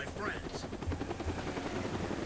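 Steady rhythmic rotor thumping of a helicopter in the video game Deadlight, continuous and fairly loud, with faint game sounds mixed in.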